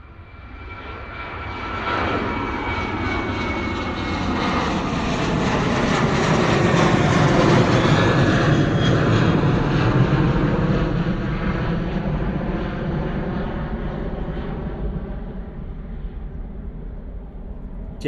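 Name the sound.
Jet2 Boeing 737 flying overhead at Bristol Airport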